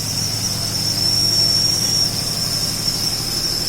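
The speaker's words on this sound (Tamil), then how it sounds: "இந்த குக்கருடைய விசில் சத்தமும் உங்களுக்காக நான் வந்து ஷூட் பண்ணியிருக்கேன்." A clay pot pressure cooker whistles continuously, a steady high-pitched hiss held over a low background hum with no speech.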